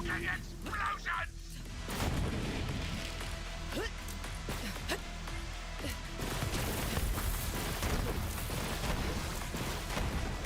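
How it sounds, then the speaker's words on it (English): Explosions and chaotic combat blasts fill a Borderlands 4 arena battle, loud and continuous with sharp bursts and booming impacts, while a voice talks over them. "Fucking explosions!"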